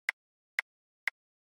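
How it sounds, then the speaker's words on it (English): Three evenly spaced rim snare drum sample hits, short and crisp clicks with a bright, woody crack, sounding alone and fairly quiet. "I have a rim snare sample sounding like this."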